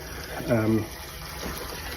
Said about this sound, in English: And no, it's running perfectly away, so there'll never be more water than that coming off the terrace.